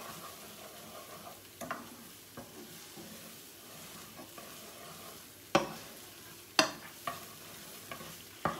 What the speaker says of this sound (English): And then I'm going to add to this 1 pound of hamburger and let that brown up.